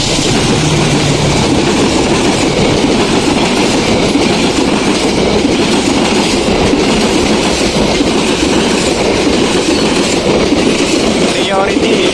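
KA Pandalungan passenger train rolling past close by, a loud steady roar of wheels and clattering rail joints that fills the whole stretch without letup.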